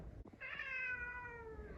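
A hungry cat meows once, a clear drawn-out tonal cry that slides downward, close and fairly quiet against a faint background.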